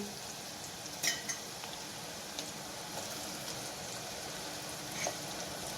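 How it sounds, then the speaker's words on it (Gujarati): Chopped onion and tomato stirred in a hot pan for moong dal, a steady soft sizzle with a few faint scraping clicks of the spoon, close and continuous with no talk. "આપણે હવે હલાવી દઈશું એને"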